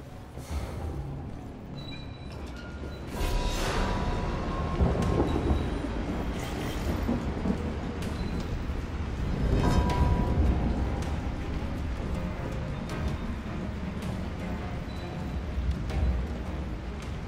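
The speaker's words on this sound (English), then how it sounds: "this is ice storm stuff" Ice storm spell effect in the fantasy action game Hellraid: a dense, sustained roaring rumble with crackling texture that swells around the third and tenth seconds, with no voices.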